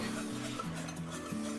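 Fast-rise yeast being whisked together in a bowl for homemade pizza dough, a close, continuous swishing and scraping in a few repeated strokes, no voices.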